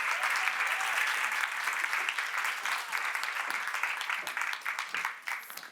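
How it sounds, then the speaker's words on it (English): An audience at a women's entrepreneurship event applauds the speakers with dense, sustained clapping that gradually thins and turns more scattered toward the end. "But just give them once more a round of applause"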